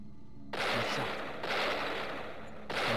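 Shotgun blasts in Deadly Premonition, a video game, as two or three loud close booms each trailing into a noisy wash.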